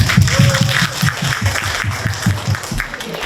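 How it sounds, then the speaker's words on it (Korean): Participants at a citizens' public forum on household waste and incineration facilities clap together in a steady, thudding rhythm, a series of evenly paced, fairly loud claps with no voices over them. "박수!"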